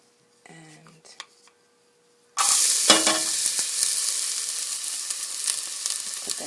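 Chopped green pepper, onion and garlic hit hot olive oil in a pan and burst into a loud, steady sizzle that carries on continuously, after a few quiet clinks and handling sounds of prep.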